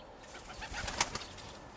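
Pigeons coo and stir softly in a loft, a cream-coloured female dove among them, with a few brief, faint bird sounds and light rustling at close range and no talk.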